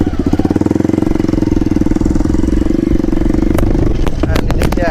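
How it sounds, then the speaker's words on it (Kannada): A modified Hero Impulse motorcycle fitted with an Akrapovic exhaust roars loud and close while riding, a rapid throbbing engine pulse holding steady throughout, with a few sharp clicks near the end. "ಆ್ಯಂಡ್ ಇದಕ್ಕೆ ಅಕ್ರೋಪವಿಕ್ ಎಕ್ಸಾಸ್ಟ್ ಹಾಕಿದ್ದಾರೆ. ಸೌಂಡ್ ಜೋರಾಗಿ ಬರುತ್ತೆ."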